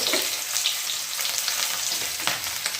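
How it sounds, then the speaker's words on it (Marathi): Steady, dense sizzling of potatoes frying in hot ghee, continuous crackle and hiss throughout with no voices. "यामध्ये हे बटाटे जे आहे ते छानपैकी मी मस्त तळून घेणार आहे"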